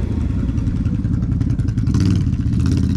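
A 3.5-horsepower Romet Pony moped buzzes loudly and close while riding, its small engine revving in a steady, rattly drone that swells slightly toward the end.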